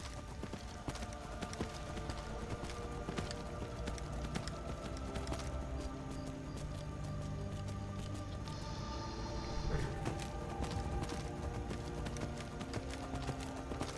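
A horse gallops in the Skyrim video game with a rapid, steady clip-clop of hooves, fairly quiet and continuous with no talk over it.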